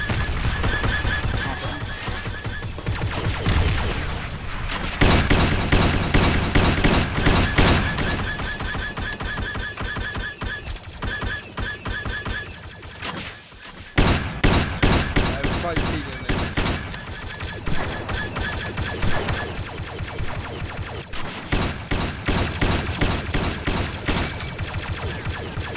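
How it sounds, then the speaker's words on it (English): Sustained rapid gunfire from blaster-style weapons blasts at turrets in a Garry's Mod Star Wars roleplay battle, dense overlapping bursts that roar loudly almost without pause, with a brief lull midway and players talking underneath. "I just focus fire on the turret."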